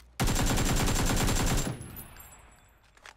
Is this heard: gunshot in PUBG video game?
yes